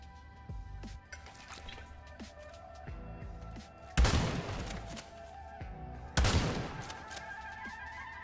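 Sniper gunfire in a video game, two loud sharp shots with booming tails a couple of seconds apart, over scattered in-game thuds and clicks.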